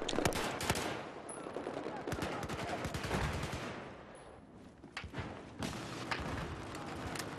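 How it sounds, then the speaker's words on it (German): Battlefield 4 gunfire, with dense bursts of machine-gun fire and scattered shots crackling close and loud, broken by brief lulls and a few dull thumps, under the game's battle noise. "Von überall wird man angeschossen."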